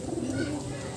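A racing pigeon gives a soft, low coo, faint and brief against a murky background hum.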